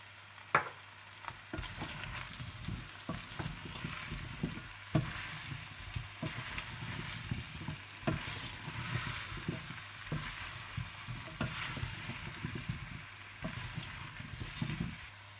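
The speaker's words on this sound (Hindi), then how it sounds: "आप इसमें डाल दें हरी मिर्चें, जुलियन कटी हुई अदरक और गरम मसाला डालकर अच्छी तरह से मिला लें" Aloo gobi is stirred in a pan with green chillies, julienned ginger and garam masala, producing a soft ongoing fry sizzle under repeated scraping strokes of a spoon, fairly quiet and steady, no one speaking.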